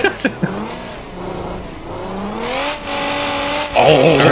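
A station wagon in BeamNG.drive revs hard, its simulated engine note rising and falling in long sweeping pitches, with a few sharp knocks early and a louder surge near the end.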